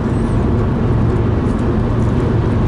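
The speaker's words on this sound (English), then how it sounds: "It's so hot, I'm just going to have to put the air conditioning on." A car's air conditioning runs inside the cabin on a hot day, giving a loud, steady blowing hum with a low engine rumble beneath it and no talk.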